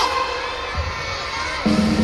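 Fans at a K-pop album showcase dance challenge in a shopping mall shout together in a loud, sustained crowd roar, with a steady hum running underneath.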